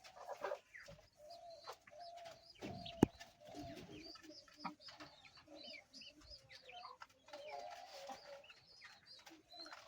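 Pigeons on a pigeon farm coo softly in repeated low murmurs, mixed with a few sharper clucks and wing flutters, all faint and close by.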